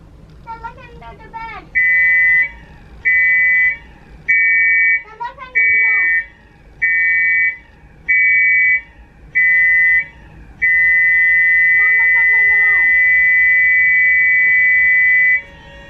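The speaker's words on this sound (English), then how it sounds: "the general alarm will be sounded" Loud electronic ship general alarm on a Disney Magic cruise ship blasts in short repeated bursts, then one long sustained tone, with a steady background hum and faint chatter.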